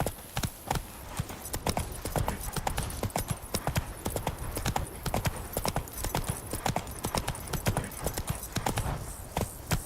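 Roach, Geralt's horse in The Witcher 3, gallops in a steady, fast stream of hoofbeats that stays loud and close from start to finish, with no talking over it.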